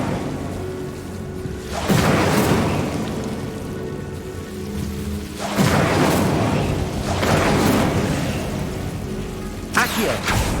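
Incendio fire spell cast in a Harry Potter video game, heard as repeated whooshing bursts of crackling flame that swell and fade roughly every few seconds, loud and close, with faint background ambience between casts.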